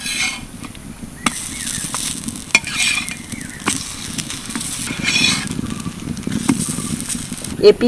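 Stuffed flatbreads sizzle on a hot griddle with a continuous soft crackle, broken by light scraping taps as they are turned over.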